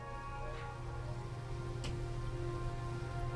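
Steady, quiet rain hiss from the Mars Horizon video game, with a faint, even wash of falling rain over a low background hum and a couple of soft ticks.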